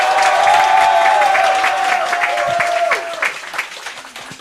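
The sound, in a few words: audience applause at a youth committee ceremony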